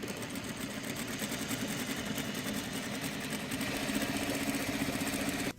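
A sewing machine runs a quarter-inch seam with a quarter-inch presser foot, its fast mechanical whir steady and fairly quiet, with no talk.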